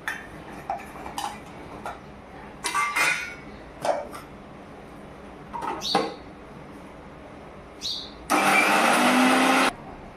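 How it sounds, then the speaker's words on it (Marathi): Kitchen mixer grinding green chillies, garlic and ginger: one loud, steady burst of blending lasting over a second near the end, preceded by scattered clinks and knocks of utensils. "त्याची आता आपल्याला मिक्सरमध्ये बारीक करून घ्यायची आहे"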